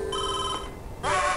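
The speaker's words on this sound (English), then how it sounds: "Make a quick phone call to Captain Wario." A telephone rings in the WarioWare Mega Micro Game$ video game on Game Boy Advance, giving a clear electronic ring with a brief pause before a louder second burst, close and prominent.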